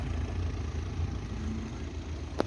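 A 2.0 TDI diesel engine in an Audi Q3 Quattro idles steadily, a low continuous rumble with a faint even throb that runs throughout, broken only by one brief sharp tick near the end.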